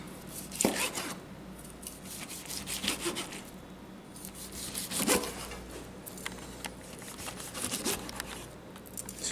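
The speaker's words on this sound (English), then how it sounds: "So I'm going to take a couple slices from around that area." A knife slices through cooked medium-rare steak in a few separate strokes, each a soft rasping cut, close and fairly quiet, with pauses between them.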